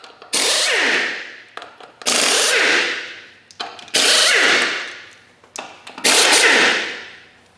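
Four bursts from an impact wrench spinning off the wheel lug nuts of a Honda TRX300 ATV in a shop, each a loud high whir lasting about a second and then winding down, with short rattling gaps between them.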